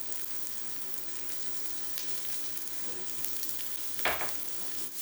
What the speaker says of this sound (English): So all we do now is we cook some onion, that's celery chopped up. We just cook it together, saute it until it's nice and tender